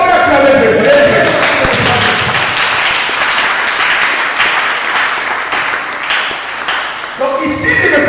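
A church congregation applauding and cheering during a Sunday service, a loud, dense wash of clapping lasting several seconds, with voices calling out through it.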